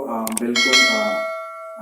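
A subscribe-reminder bell sound effect: a few quick metallic dings and clangs that overlap, then ring out and fade with a bright sustained tail, alone without talking.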